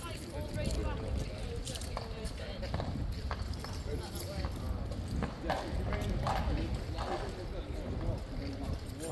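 The King's Guard horses clip-clop on hard ground as they line up, their hooves sounding in scattered, overlapping beats under a steady background murmur.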